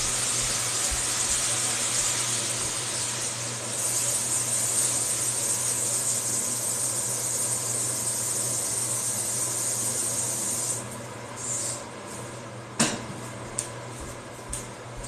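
Turkey tails frying in hot oil in a pot, a steady bright hiss and sizzle close up that softens near the end, with a few clicks and clatters of cookware.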